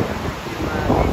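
Cold wind blows beside a stream in a natural setting, a steady broadband rush with gusty low rumble and mic buffeting, close and continuous with no other clear sounds.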